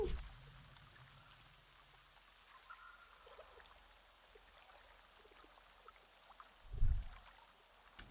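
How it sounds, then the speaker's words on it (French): Rain falls in the Avatar video game, a faint, steady patter with soft drips and a low rumble midway, quiet and without talk. "Il pleut."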